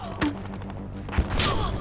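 Battlefield Hardline game combat with a frag grenade thrown amid sharp bursts of gunfire, a few loud thuds and cracks standing out over a steady low engine-like hum.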